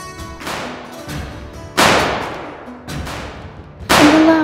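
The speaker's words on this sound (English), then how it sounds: "And the loud noises coming from the firecrackers." A series of sharp, loud firecracker bangs, about five explosive cracks at irregular intervals, each with a noisy burst that decays quickly; the last one is loudest.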